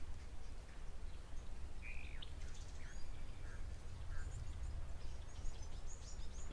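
Several birds chirp and call at a waterhole frequented by vultures and ducks, short faint tweets scattered over steady outdoor background noise.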